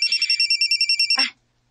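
Phone ringtone for an incoming call, a bright, rapidly pulsing electronic trill repeating about ten times before cutting off abruptly, followed by near silence.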